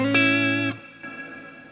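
A guitar played through a Neunaber Immerse reverb pedal turned fully up: a bright sustained chord rings loudly, cuts off, and then a softer, washy reverb swell rises and lingers. No one talks.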